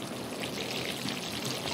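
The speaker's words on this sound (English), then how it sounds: "Watering the plants." Water pours steadily from a watering can onto plants in a house-sitter video game, a continuous splashing stream, close and even in level with no talk over it.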